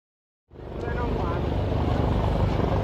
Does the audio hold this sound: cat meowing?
no